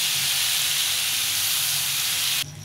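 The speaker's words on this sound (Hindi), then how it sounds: "अब इसको अच्छी तरह से भून लेंगे।" Garlic, red chili powder and lemon juice fry in a hot pan for a Chicken Manchurian dish, giving a loud, continuous close-up sizzle and hiss that drops off sharply near the end.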